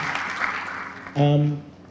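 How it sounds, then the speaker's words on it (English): Audience applause at a talk honoring a team, a diffuse wash of clapping for about a second before a voice cuts in over the fading claps. "Come on, let's clap for them and the whole team."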